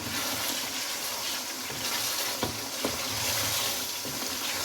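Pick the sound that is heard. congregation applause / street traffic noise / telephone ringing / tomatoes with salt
tomatoes with salt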